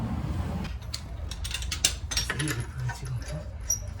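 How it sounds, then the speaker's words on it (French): A wrench loosens the lug nuts on a car wheel while a flat tire is changed, giving sharp metallic clicks and ratcheting ticks in short bursts. Low talk sits underneath. "Je retire maintenant les écrous."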